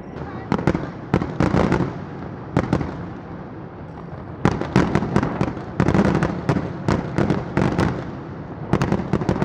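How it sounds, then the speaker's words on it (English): Repeated fireworks explode in clustered volleys, loud sharp bangs with crackling tails, pausing briefly between groups. "There's two fireworks performing."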